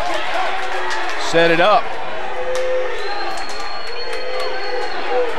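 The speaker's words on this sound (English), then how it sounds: "You hear the crowd yelling, squeeze." High school wrestling match crowd in a gym shouts and yells in a steady, echoing din, with one louder burst of cries, beneath close-up talk.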